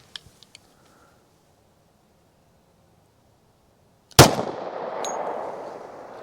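A single sharp, loud gunshot from a 5-inch Rock Island 1911 firing Norma MHP .45 Auto, sounding after a few faint clicks and a quiet pause, with a ringing, reverberant tail fading out afterward.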